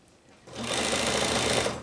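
A sewing machine runs a zigzag stitch on a blouse seam, starting after a short quiet pause and then whirring steadily and loudly at an even speed, close to the listener, with no talk.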